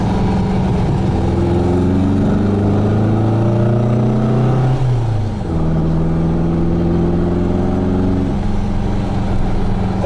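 Volkswagen Fusca (Beetle) air-cooled engine revving through a less restrictive exhaust, a loud close rasping drone that climbs in pitch, drops back sharply midway, then revs up again steadily.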